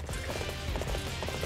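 Horse hooves clip-clopping in Dynasty Warriors 8 Empires, a quick steady run of galloping hoofbeats inside busy battlefield game noise.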